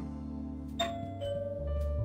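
A doorbell chime rings inside the point-and-click adventure game Blackwell Deception, a bright tonal ding that sustains over a steady musical backdrop, followed by a second lower tone.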